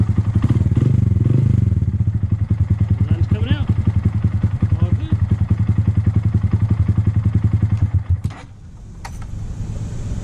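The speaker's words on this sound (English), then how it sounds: "Motor's warm, we'll get her a few revs." A warm 2022 Honda Grom motorcycle engine runs loudly nearby with a throbbing rhythm, rising and falling in a few revs before cutting to a quieter idle near the end.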